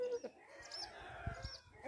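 A Light Brahma chicken gives a few soft, close clucks in short bursts against faint background noise.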